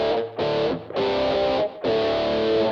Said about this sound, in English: this is how you can get almost dry sound from an original Rockman with no modifications